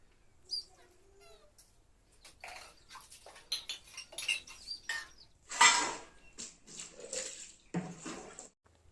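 Utensils being washed by hand in a Hindi-speaking home kitchen, with scattered clinks and clatters of steel dishes. Water splashes and scraping come in uneven bursts, loud and close.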